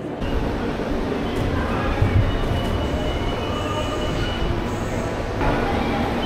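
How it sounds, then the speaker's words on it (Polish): A metro train arrives at a station in Rome, its rumble loud and close, with steady wheel and rail noise, a brief brake squeal and hiss, and faint voices in the background. "Przyjechało kolejne metro, ale nie tym razem."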